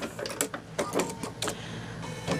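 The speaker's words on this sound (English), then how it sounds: "I'm just sewing on the bottom, and I can sew all the way off the edge with that one" A sewing machine stitches across the bottom of a small fabric manicure set and runs off the edge, making close, uneven mechanical bursts of stitching.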